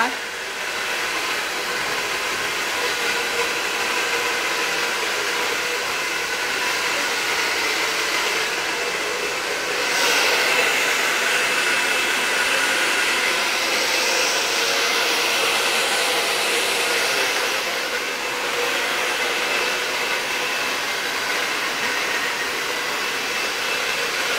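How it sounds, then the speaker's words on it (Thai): A hair dryer blow-drying hair in a professional salon blows as a loud, steady, continuous rush that barely varies from start to finish. "นี่ก็จะเป็นวิธีการเป่าผมของน้องนะคะ"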